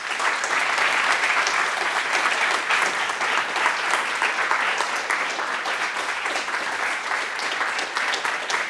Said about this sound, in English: You start to clap too early.